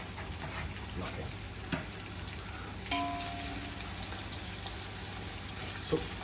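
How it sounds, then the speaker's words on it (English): Chopped onions fry in a pan with heated masala for a homemade mutton biryani, giving a steady close sizzle and crackle with an occasional brief clink or stir. "let's get these onions into a golden brown color, but please be careful, it should not burn"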